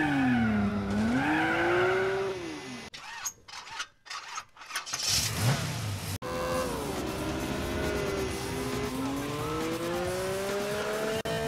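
Drag race car in the Gran Turismo 4 video game, its engine roaring and shifting through gears with tire squeal, loud and continuous with a short choppy burst partway through.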